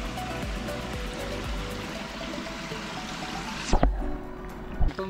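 Monsoon water flows in a stream at Prabalgad fort, a continuous rushing gurgle that cuts off abruptly near the end, followed by a couple of low bumps.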